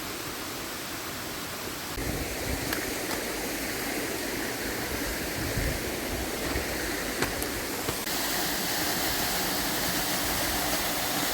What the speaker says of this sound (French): Cascade de Rognon.